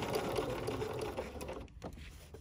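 A sewing machine running a short burst of outline stitching around a fabric butterfly, a rapid even whirring patter close up that stops near the end.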